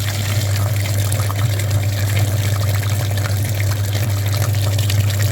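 Water rinses the clogged cooling radiator of a Daewoo Lanos or ZAZ Sens, spraying in a steady, loud, unbroken rush with a low pump-like drone underneath.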